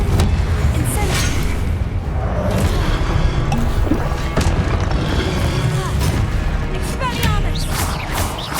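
Spells are cast during Hogwarts Legacy combat, with booming blasts, crashes and whooshing impacts in a dense, loud stream of game effects throughout.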